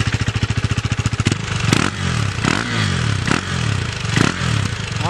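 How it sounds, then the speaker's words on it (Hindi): A 2017 KTM Duke 390 motorcycle with its stock silencer idles with a rapid, even thumping, then revs in several loud, rising bursts that fall back between throttle blips, heard up close. "let us check out the exhaust note of all new Duke 390"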